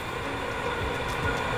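Another LRT light rail train rolls past in the city, a brief, steady mid-distance rumble of wheels on track with no voices.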